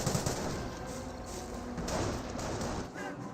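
Sustained MG42 machine gun fire in Company of Heroes, a dense, fairly quiet rattle of rapid shots with scattered gunfire from other weapons mixed in, continuing steadily without pause or talking.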